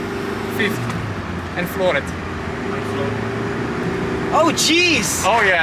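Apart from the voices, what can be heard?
car clutch slipping while accelerating in fifth gear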